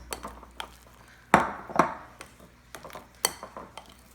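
Urad dal batter for Kerala-style uzhunnu vada being mixed in a bowl, with irregular clinks and knocks of utensil against the vessel and a few louder clatters among softer scraping, close and without speech.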